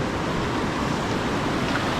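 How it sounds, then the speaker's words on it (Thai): A forest stream with a small waterfall in Thung Yai Naresuan during the dry season gives a steady, broad rushing wash of flowing water with no voices. "ริมห้วยน้ำ มีน้ำตกเล็กๆให้เราดูชม"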